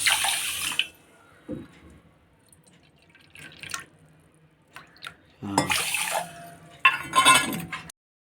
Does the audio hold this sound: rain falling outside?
no